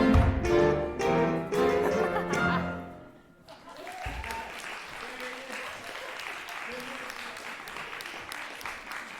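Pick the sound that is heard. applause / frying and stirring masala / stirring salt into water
applause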